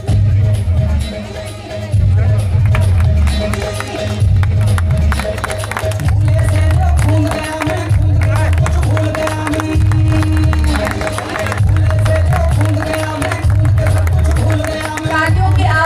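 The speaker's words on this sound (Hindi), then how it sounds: "तालियों की आवाज मुझे कम नजर आ रही है, सुनाई दे रही है" A crowd at a film celebration event on an outdoor stage claps in waves over loud amplified music and chatter, the clapping rising and falling in bursts throughout.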